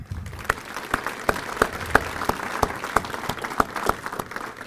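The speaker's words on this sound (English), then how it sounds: "I would like to give a little round of applause to alums and the Alumni Association." At an awards ceremony, a small audience claps for alumni and an alumni association, sparse and distinct handclaps in an uneven rhythm over a soft background of other clapping.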